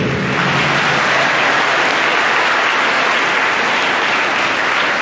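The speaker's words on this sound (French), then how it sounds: "Applaudissons-les s'il vous plaît." A congregation at a church mass in Jacmel applauds a school's participants, dense sustained clapping filling the room evenly and loudly from start to finish.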